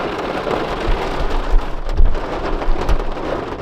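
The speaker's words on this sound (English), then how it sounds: "It's raining pretty hard now." Heavy rain pounds steadily on a tent during a severe thunderstorm at a spring turkey hunting camp on Illinois public land, a loud dense roar with low thunder rumbles rolling beneath it.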